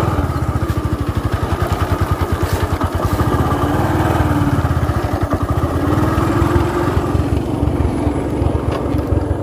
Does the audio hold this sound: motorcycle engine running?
yes